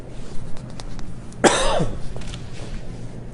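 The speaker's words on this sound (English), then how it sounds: "excuse me if I cough now and then" A single short cough from a person with a cold bursts out midway through a quiet interior space, with faint background murmur around it.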